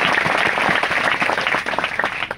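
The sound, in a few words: audience clapping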